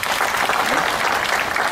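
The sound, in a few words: audience applause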